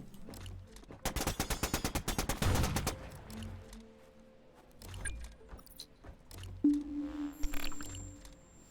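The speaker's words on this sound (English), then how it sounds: "It's a heavy assault rifle, basically." Heavy assault rifle in the video game Discovery fires one rapid burst of about a dozen loud shots near the start, followed by quieter game sound effects and ambience.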